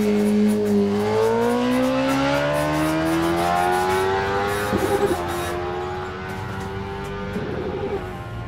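A drag racing car at a test-and-tune day accelerates hard down the strip, its loud engine tone climbing steadily with two brief shifts through the gears, a continuous near roar with no talk.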